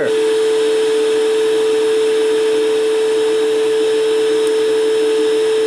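A shop vac serving as a forge blower roars at full volume with a steady airy rush and a constant motor whine, running alone without a break.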